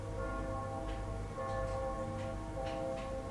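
Church bells ring nearby in Foggia, a steady sustained peal with sharp repeated strikes layered over a low hum, continuous and fairly prominent throughout.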